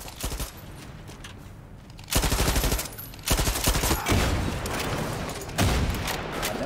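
Rapid automatic gunfire in Far Cry 6, with loud bursts that start and stop, then heavier sustained volleys toward the end. Between the bursts come quieter stretches of game ambience.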